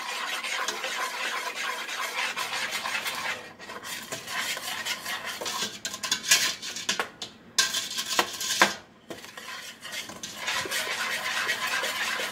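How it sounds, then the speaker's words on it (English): Steady scraping and rubbing as a spoon stirs a peanut butter mixture in a pot on high heat, continuous with brief dips, close and fairly loud, no talking. "Now I'm going to stir this constantly."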